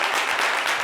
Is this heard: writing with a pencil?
no